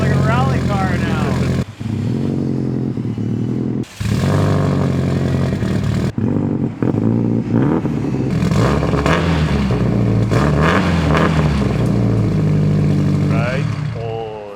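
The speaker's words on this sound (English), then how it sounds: "Hey, it sounds like a rally car now." A car engine revs hard and continuously with a raspy, rally-car-like growl, rising and falling in steady pulses and staying loud and close for the whole stretch, with talk mixed in.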